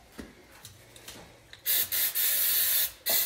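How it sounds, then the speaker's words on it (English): Brake cleaner sprayed from an aerosol can onto a fuel filter canister on a 2018 Sierra: a few loud, hissing bursts of spray, the longest lasting about a second, following quieter rubbing and handling noises. "I always take a can of brake cleaner."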